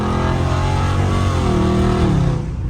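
A loud Dodge Scat Pack engine revs hard at full throttle, its deep roar steady and continuous while the pitch climbs and then eases slightly near the end.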